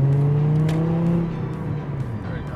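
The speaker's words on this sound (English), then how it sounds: "Listen to how quiet it is inside this car." Inside a moving car, a steady low engine drone with a tonal whine that eases as the engine settles, fairly loud and without talk.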